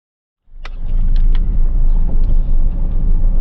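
A Ford 9N tractor engine rumbles steadily as it drives over uneven ground in the woods, starting abruptly and staying loud and close throughout with a few faint knocks on top.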